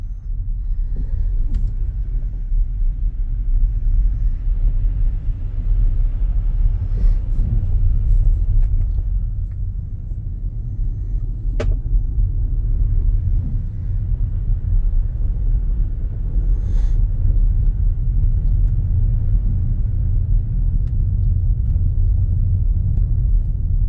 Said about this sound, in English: The car slid and maintained itself in the road, in the lane.